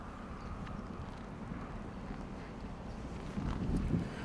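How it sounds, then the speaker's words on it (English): Strong wind blowing outdoors during a Montana snowstorm, a steady broadband roar and rumble of gusts buffeting the microphone, swelling louder near the end with no talking. "Winds have picked up just in the last 10 to 15 minutes."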